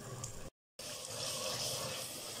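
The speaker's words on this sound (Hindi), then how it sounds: "ये जो चने का पानी है ये मैं निकाल के इसको एक पानी अच्छी तरह धो लूंगी" Tap water running over boiled black chickpeas (kala chana) in a kitchen sink to wash off soda, a steady splashing flow broken by a brief cutout.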